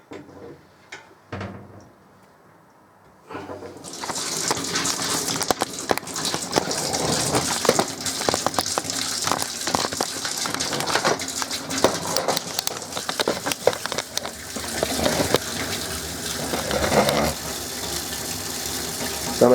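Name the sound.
water flowing from tap with pressure booster pump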